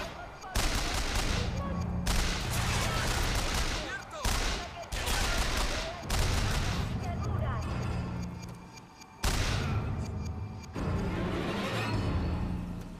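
Machine gun fire from BioShock Infinite rattles in long sustained bursts with brief pauses between them, loud and dense, with voices talking underneath.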